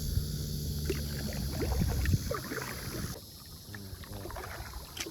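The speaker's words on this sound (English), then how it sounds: "stop, whatever you do with a kayak. And you pull it up to the bank." A kayak pulled up onto a muddy bank of a wide channel gives faint scraping, sloshing and thumping under a steady wind hiss outdoors, close but quiet.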